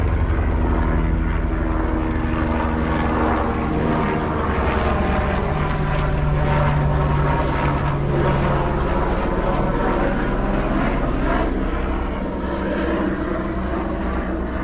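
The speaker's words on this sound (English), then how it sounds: "Helicopter." A helicopter's rotor chop and engine drone roar loud and constant throughout, steady and close overhead without pause, above Forest Lawn cemetery.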